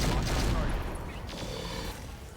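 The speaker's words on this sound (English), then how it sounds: "This is going to use up basically all the light rotary rifle ammo." A light rotary rifle keeps firing at a turret in the RogueTech mech game, a sustained loud rattling barrage with a roughly steady roar, partly overlapped by a voice.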